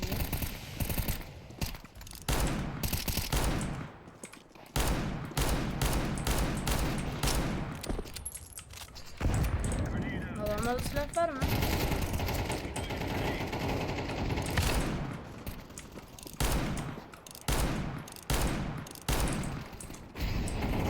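Counter-Strike 2 revolver gunfire in bursts of loud, repeated shots with short gaps, mixed with other in-game weapon fire and effects throughout.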